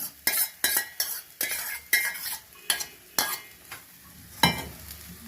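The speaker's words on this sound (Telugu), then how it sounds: "ఈ రైస్ అంతా వేసి కలిపియాలి." A spoon stirs cooked rice into a gongura pulihora mixture in a pan, with regular scraping and clinking strokes about twice a second, close and moderately soft, with no voices.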